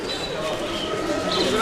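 Pigeons cooing at a busy market, soft repeated coos close by under steady crowd chatter and nearby talk.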